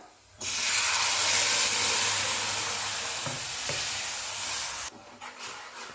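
Tomato saar is poured into a hot tempering of roasted garlic and curry leaves, setting off a sudden loud sizzle and hiss that holds for several seconds, eases slightly, then cuts off and leaves faint crackles.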